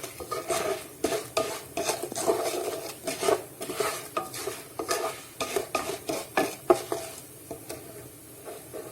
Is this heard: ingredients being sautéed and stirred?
yes